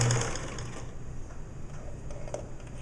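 A sewing machine stitches close to the neck edge of a boy's bereavement gown, giving a steady mechanical whir with fine rapid ticking, close and moderately loud throughout, with no voices.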